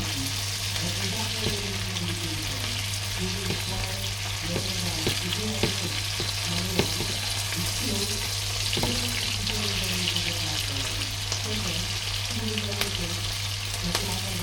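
Large onions fry in a pan, a steady close sizzle with repeated stirring scrapes throughout, while a voice speaks briefly over the cooking.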